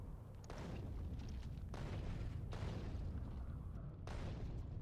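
Repeated heavy explosions from Factorio artillery striking an enemy base, a dense rumbling barrage of booms that swells and overlaps continuously, loud and close with no gaps of quiet.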